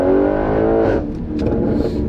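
A remapped Audi RS6 with an Akrapovic exhaust pulls away, its engine note climbing loudly in pitch before settling into a rougher, lower drone as it drives on.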